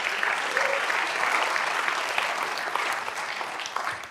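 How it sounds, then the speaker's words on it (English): An audience at a church sermon breaks into applause, a dense, steady wash of many hands clapping at moderate distance for a few seconds, fading slightly at the end. "You can applaud that"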